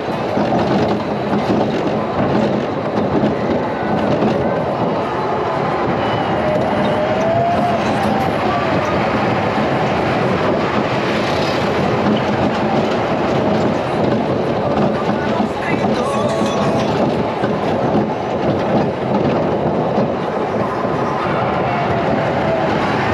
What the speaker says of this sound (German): so eine Zugachterbahn aus dem Hause SBF Visa, Standard-Layout, habe ich schon auf diversen Kirmesplätzen gesehen